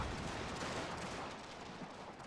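Prussian troops fire massed musket volleys in a strategy video game, a dense, continuous crackle of distant gunfire rolling on without pause.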